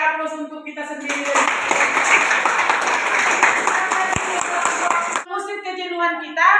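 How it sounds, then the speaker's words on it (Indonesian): A classroom group applauds, a steady dense burst of clapping lasting several seconds, with a voice speaking before and after it. "Berikan sekali lagi aplaus untuk kita sendiri."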